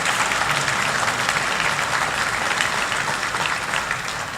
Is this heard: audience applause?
yes